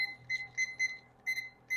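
A kitchen timer is being set, sending out a quick run of clear, fairly faint electronic beeps in an uneven rhythm.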